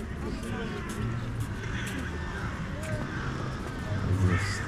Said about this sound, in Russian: Вороны каркают